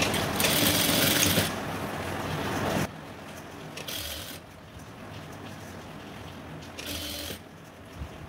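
A sewing machine runs in fast bursts while stitching a blouse seam: a loud, steady whir for about three seconds, then shorter, quieter runs with pauses between, close by and with no talking.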